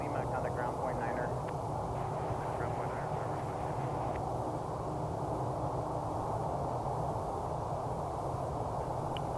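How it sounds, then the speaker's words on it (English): A jet airliner touches down on runway 17 right at Reno with quiet reverse thrust, a steady, distant, broad roar under faint radio chatter and voices, low in level throughout. "Very quiet reverse thrusters."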